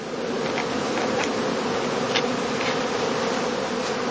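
Honeybees around straw skeps in a heathland heather apiary, a dense continuous buzzing hum from many insects, steady and close throughout with no voices.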